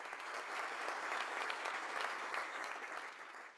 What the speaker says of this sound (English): Definitely clap for that.